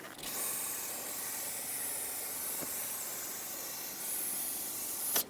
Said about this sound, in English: And now let's clean it up with some brake parts cleaner.